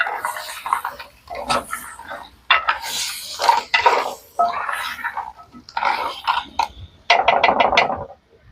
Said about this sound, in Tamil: இனி வந்து நண்டை சேர்ப்போம். சேர்த்துட்டு கலந்துடுவோம்.